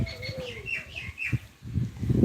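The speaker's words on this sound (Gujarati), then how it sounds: "જો આમ જો ચકલી આવી" Small birds such as house sparrows chirp around a home, a few bright short calls near the start and middle mixed with fluttering and low household noise, fairly close.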